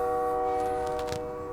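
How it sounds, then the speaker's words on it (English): A train rumbles past close by with a steady, loud, sustained drone and harmonic hum, its horn-like tone holding throughout. "I'm just apologize for the noise for the train."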